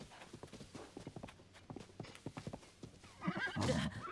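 Horses in the video game Zelda Tears of the Kingdom, with rhythmic hoofbeats clip-clopping steadily and a loud whinny rising near the end, under faint background tones.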